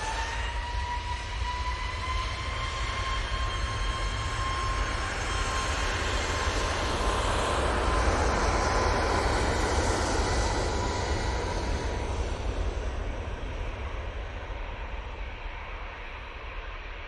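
A Boeing 777 airliner of Etihad at Manchester Airport, its jet engines making a broad steady roar that swells to a peak near the middle and eases again, with a thin whine running through it.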